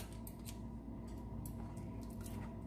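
Several crisp snips of scissors cutting through a monkfish tail, spaced unevenly over a low steady background hum, close by with no talking.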